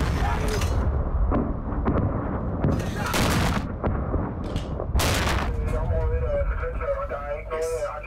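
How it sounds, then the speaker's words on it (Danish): GMLRS rocket launcher firing in an Afghanistan combat zone, with several heavy booming blasts and rumbling bursts over continuous low background noise, mixed with people talking and radio chatter. "GMLRS'en, den skyder nok lige om lidt."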